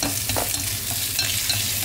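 Shallots and crushed lemongrass stir-fried in a couple of spoons of oil for a tuna noodle soup broth, giving a steady close sizzle with light stirring scrapes throughout.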